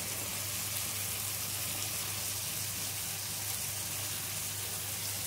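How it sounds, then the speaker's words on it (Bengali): Tomatoes fry in oil in a pan for a mustard bean dish, making a loud, unbroken hiss that sounds almost like heavy rain and stays even from start to finish. "এখনও লাল হয়ে ভাজা হয়নি, এখনও ভাজছি আমি"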